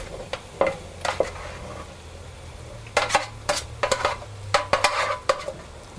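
Chunks of roasted butternut squash tipped into a pot on the stove for soup, giving a series of close, sharp clatters and scrapes in uneven bursts, with quieter gaps between.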